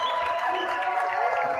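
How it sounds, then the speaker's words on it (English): Warm applause from a workshop audience, steady clapping mixed with light cheering, filling the whole moment. "let's warm round of applause for Cabello, please."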